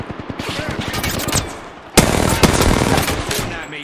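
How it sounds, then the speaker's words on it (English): Rapid automatic gunfire aimed at the player in Apex Legends, dense bursts of shots close and loud, with a sharper volley partway through. "Shooting at me."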